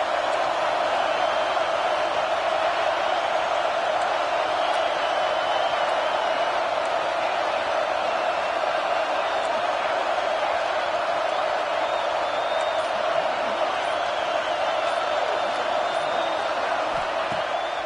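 A football stadium crowd roars steadily through a third-down defensive stand in a Memphis game, a loud, sustained wash of cheering that stays even for many seconds and carries faint whoops.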